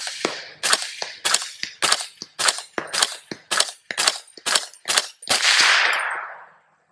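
A rapid string of about a dozen loud 300 Blackout Honey Badger rifle shots, fired evenly one after another, the last one ringing out longer.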